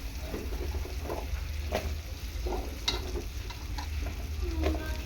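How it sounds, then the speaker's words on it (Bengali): Cut potatoes tossed into a hot pan with cumin powder, frying with a steady low sizzle while a spoon stirs and scrapes in occasional soft knocks, no voices. "এখন আমি দিয়ে দিচ্ছি এর মধ্যে কেটে রাখা আলুগুলো"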